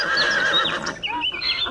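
A farm horse gives a shrill, quavering whinny, followed by a few shorter neighing calls, close and clear with no talking.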